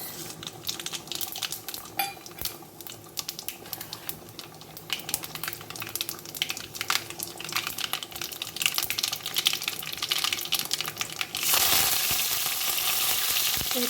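Fenugreek seeds fry in hot oil for sambar, a faint, crackly sizzle with scattered clinks of a spoon and pan that swells into a louder steady hiss near the end.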